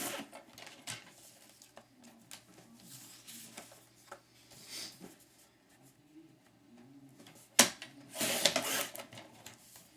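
Paper being trimmed for a handmade mini album, an eighth of an inch cut from each side: faint scraping and rubbing strokes with a few sharper slicing or clicking bursts near the end.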